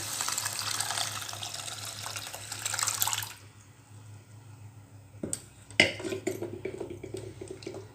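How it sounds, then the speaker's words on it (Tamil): Water pours steadily into a pot of sautéed onions for onion sambar for a few seconds, then stops, followed by a couple of clanks and light kitchen clatter. "இந்த தண்ணியை சேர்த்துட்டு நமக்கு தண்ணி பத்தலைன்னா வேணால் நம்ம தண்ணி கொஞ்சம் சேர்த்துக்கலாம்"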